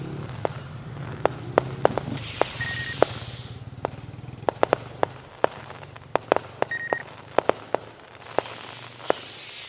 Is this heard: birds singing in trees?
no